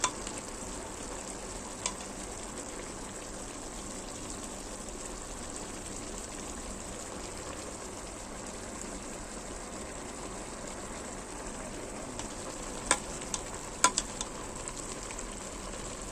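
Squash, string beans and okra simmer in a pot with a soft, continuous bubbling hiss, joined by a few faint clicks near the end.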